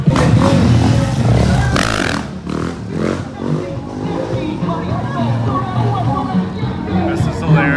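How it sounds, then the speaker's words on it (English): Motorcycles rev and roar on a closed street in Haiti during wheelies, loud and close at first, then a sustained engine drone fading slightly, with crowd chatter mixed in. "All right, wheelie time."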